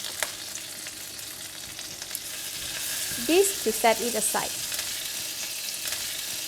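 Salted fish fries in oil in a frying pan, a soft, steady sizzle with a few clinks of a utensil stirring and lifting pieces, while someone talks briefly over it.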